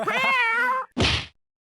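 Close house cat giving one clear, drawn-out meow, followed by a short breathy second call, then silence.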